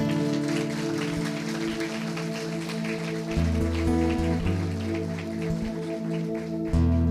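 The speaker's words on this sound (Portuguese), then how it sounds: "Você pode aplaudir o Senhor aí?" A church congregation claps for the Lord, a steady patter of applause spread across the room, layered under sustained organ or keyboard chords that shift partway through.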